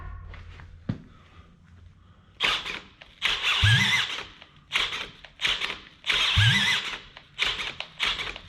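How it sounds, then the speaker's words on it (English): A power drill whirs in several short bursts, revving up and cutting off repeatedly, with knocks and handling noises between, close and loud. "Try the drill again."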